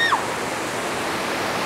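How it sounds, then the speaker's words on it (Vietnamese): Mountain stream near a village of stilt houses, its water rushing in a steady, dense broadband wash, close and fairly loud, with a brief voice fragment at the very start. "cái nước suối"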